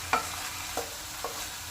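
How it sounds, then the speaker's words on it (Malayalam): Tomatoes cook in a pan under a steady soft sizzle while a utensil stirs them, with three light scraping strokes spaced evenly across the quiet hiss. "ഇത് നല്ലപോലെ ഇങ്ങനെ ഇളക്കി ഒരു 5 മിനിറ്റ്സ് ഇത് ഈ ടൊമാറ്റോ വേവാൻ വെക്കണം"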